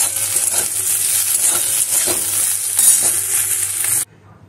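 Okra frying and being stirred in a home pan for lunch, a steady close sizzle with scraping stirs and light clinks, stopping abruptly near the end.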